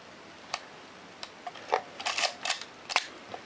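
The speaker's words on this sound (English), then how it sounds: "which keeps the shutter open all the time that the shutter button's held down, and then it closes" A Nikkormat FTN film camera's shutter works on its bulb setting, producing a scatter of sharp, close mechanical clicks and snaps as it opens and closes, with small ticks in between and no voices.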